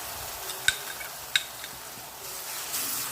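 Mushroom curry sizzles in a pan after tomato puree is added, with a couple of sharp spoon clinks against the pot over a soft, steady frying hiss.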